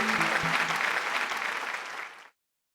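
Canned applause effect triggered by an applause sign on a gun restoration show, a full crowd clapping that cuts off abruptly, with a few low tonal bumps near the start.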